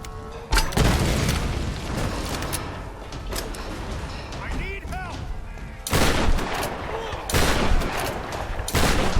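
Machine gun fire and explosive booms from the Tomb Raider video game, dense sustained bursts with heavy blasts, loud and close, with a voice shouting briefly over the gunfire.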